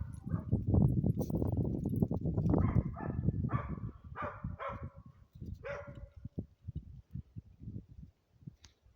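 A farm dog barks and yelps in a rough cluster at close range, then quieter scattered sounds and rustling follow.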